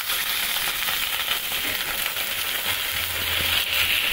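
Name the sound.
water added to frying onions sizzling in a wok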